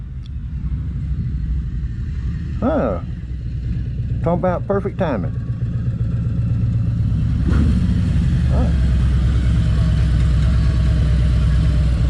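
A Harley-Davidson motorcycle with a toe shifter rumbles steadily as it arrives and idles nearby, its low engine throb continuous throughout while people talk over it.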